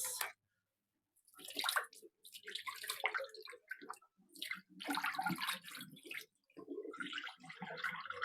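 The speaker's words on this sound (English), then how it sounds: "now I'll drain the apples." Water draining off a batch of cooked apples in a home kitchen: splashing, trickling pours come in several bursts with brief gaps, close by and moderately quiet.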